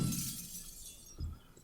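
Glass shatters as it is broken with a pick in the survival game 7 Days to Die, a bright crashing burst up front that tails off into scattered tinkling and a second duller impact.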